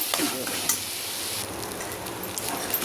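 Rice flakes mixed with gooseberry are stirred in a hot pan, a loud close sizzle under repeated scraping spatula strokes and occasional light metallic clinks, continuous for the whole stretch.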